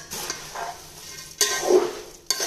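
Puffed rice (aval pori) mixture with roasted gram, peanuts and coconut being stirred in a pan, a dry rustling scrape in a few strokes with short sharp clatters, close and fairly loud.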